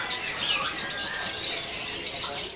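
A caged Blue Rock bird offered for sale gives thin, high chirps and short whistles close by, under steady talk from people nearby.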